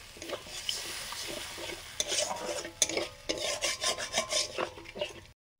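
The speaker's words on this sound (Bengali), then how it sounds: "কাশ্মীরি চিলি পাউডার, জল দিয়ে মশলাটা কষে নিচ্ছে।" A spice paste with Kashmiri chili powder and water is stirred and fried in a pan, giving brisk rhythmic scraping and sizzling strokes that stay close and fairly loud, then stop abruptly.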